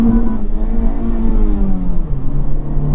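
A Honda Civic Type R FL5 with a Stage 2 Hondata tune pulls hard in first gear, its loud, steady engine drone climbing in pitch under heavy acceleration, close and continuous throughout.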